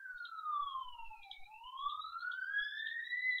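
An ambulance siren wails past in a steady two-tone sweep, dipping in pitch and then climbing again, loud and clear with no one talking over it.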